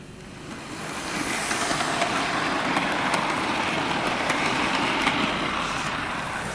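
A steady rumbling chug with hissing noise builds and holds as a Hornby LNER Class A3 Flying Scotsman model steam locomotive pulls three coaches along the track, fairly close and continuous.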